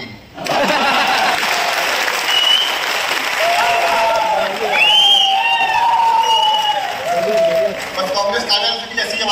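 Audience at a Hindi comedy kavi sammelan (poetry gathering) applauds loudly and continuously for several seconds, with cheering and voices mixed into the clapping crowd.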